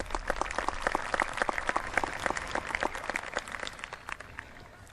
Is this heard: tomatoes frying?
no